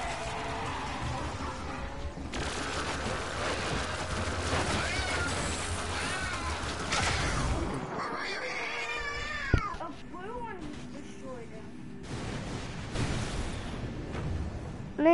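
Cat meowing and caterwauling in Plants vs. Zombies, loud drawn-out yowls layered over busy game noise and player talk, with a break in the middle before the cries resume.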